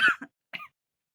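Two short, dry coughs close by, the first a quick double burst, the second a single cough after a brief pause, then silence.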